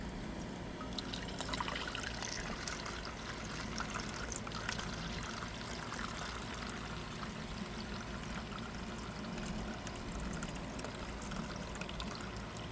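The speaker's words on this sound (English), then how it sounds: "I'm gonna pour it in there slowly but surely." Worm casting tea pours steadily and continuously into a container with a splashy, trickling wash, a fairly close and even sound with no voices.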